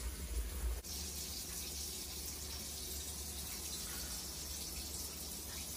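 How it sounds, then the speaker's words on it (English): Mains water flushes through a Viessmann Vitodens 050 boiler system during installation, giving a steady, even rush of water that follows a brief click and continues unchanged. "Just flushing this now. I'll just show you, this is just a mains flush, it's the last flush if you like"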